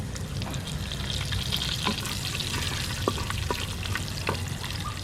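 Curry leaves crackle and sizzle in hot oil after mustard seeds for a Kerala tapioca biryani, a steady close frying hiss dotted with sharp pops and occasional stirring clicks.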